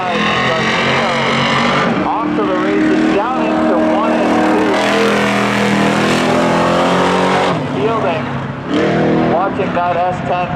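A loud S10 Blazer race car engine roars at a spectator drag racing event, revving steadily under an announcer's commentary throughout, with the pitch rising and falling as it accelerates.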